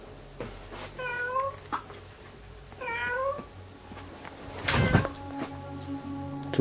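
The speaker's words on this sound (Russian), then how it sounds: "здесь может быть кот какой-то живет" A cat meows twice in a quiet indoor room, two clear drawn-out cries about two seconds apart, followed by a dull thump and faint creaking.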